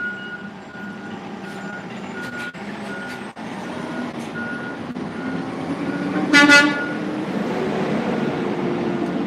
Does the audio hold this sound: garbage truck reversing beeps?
yes